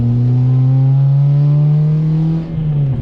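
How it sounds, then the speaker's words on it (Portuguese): A Subaru Vivio kei car's exhaust holds a loud, close, steady engine drone at high revs, easing slightly in pitch near the end. There is no talking. "Adorei esse escape."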